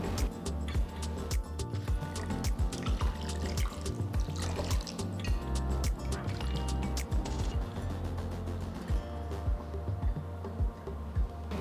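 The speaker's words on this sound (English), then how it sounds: "Just pour water at intervals" Water is poured at intervals over cooked tapioca sago pearls to rinse them, a continuous close splashing and trickling with scattered drips and clicks.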